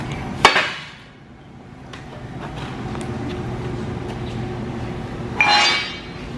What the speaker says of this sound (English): 8 pound sledge.